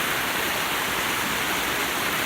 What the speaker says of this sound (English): But the water's running really fast and high right now because it's been raining a lot lately.